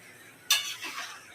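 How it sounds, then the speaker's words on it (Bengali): Mutton with a few pieces of potato is stirred and sautéed in a pan for kosha, a single quick scrape followed by a brief sizzling rustle, close and fairly faint. "মাংসটা এই যে কষাচ্ছি"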